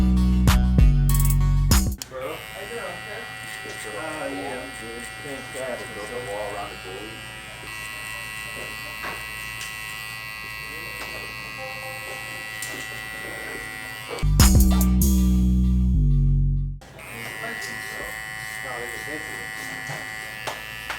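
A BaByliss Pro Rose Gold FX hair clipper buzzes steadily while cutting hair, loud and close at the start and again near the end, with speech heard quietly under the motor in between.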